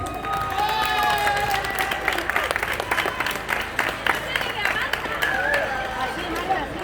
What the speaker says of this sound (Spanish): Un fort aplaudiment per a tots ells.